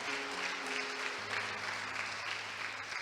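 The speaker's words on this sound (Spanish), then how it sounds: "Denle un fuerte aplauso al verdadero en esta mañana" A congregation at a church service claps loudly and steadily, broad continuous applause with a sustained organ or keyboard tone underneath.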